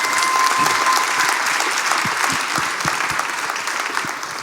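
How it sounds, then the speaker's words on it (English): A short, loud burst of audience applause at a live podcast taping, dense and continuous from start to finish with faint crowd murmur. "let's give him a round of applause for supporting her"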